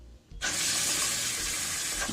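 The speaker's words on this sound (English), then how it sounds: "2 cups of rice, so you need 4 cups of water." Tap water runs steadily into a pot to cook rice, starting abruptly after a brief quiet moment and continuing as a loud, close, broadband gush.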